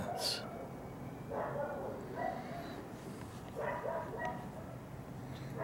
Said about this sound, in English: Do you hear the dogs barking?